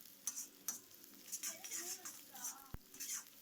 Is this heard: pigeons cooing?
no